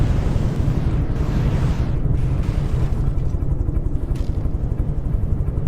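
Torpedo and missile explosions in a naval combat video game, heard as a continuous, loud, deep rumbling roar of overlapping blasts with no break across the whole stretch.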